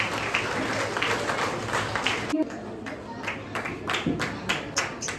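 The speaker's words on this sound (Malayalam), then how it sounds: "നല്ലൊരു കയ്യടി അവർക്ക് കൊടുത്ത് അവരെ ബഹുമാനിക്കാം, അവരെ ആദരിക്കാം" Audience applause at a kindergarten and preschool convocation ceremony for the teachers, dense steady clapping through the first half, a brief break, then more scattered claps, with voices mixed in.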